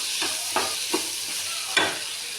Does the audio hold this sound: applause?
no